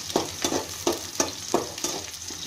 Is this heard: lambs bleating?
no